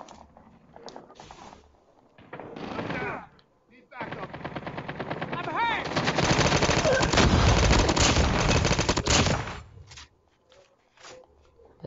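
Automatic gunfire in the mobile game Call of Duty Mobile: several bursts of rapid shots, one long sustained burst in the middle, with game sound effects and brief voices around the shooting.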